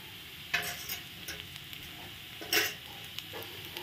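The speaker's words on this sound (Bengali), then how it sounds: "এখন লবণ হলুদ দিয়ে আর একটু ভেজে নেব।" Onion and garlic with turmeric and salt sizzling softly in a pan of oil, with a steady low fry broken by a couple of sharp stirring scrapes.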